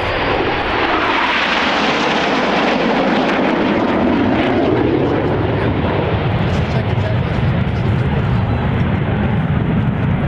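Red Arrows BAE Hawk jets roar past during an air display at RIAT 2012, a loud, sustained broadband jet rumble whose pitch sweeps as the aircraft pass, with a commentator speaking over it.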